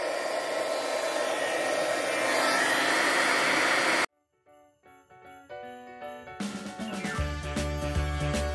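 A heat gun blows with a steady, loud hiss and whir for about four seconds while a holiday card is embossed, then cuts out, leaving quieter tinkling and music-like tones.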